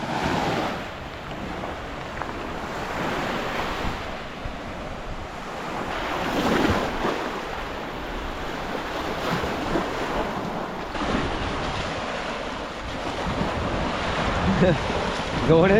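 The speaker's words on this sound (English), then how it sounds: "the noise of the waves and the cold water maybe." Steady roar of river waves breaking continuously near Ausable River's Whirlpool Access, with wind buffeting the microphone throughout.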